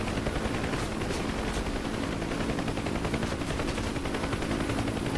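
Door gunners on a UH-1 Huey helicopter in DCS fire machine guns in a dense, continuous rattling burst, loud and close over the steady drone of the rotor and engine, with no talking.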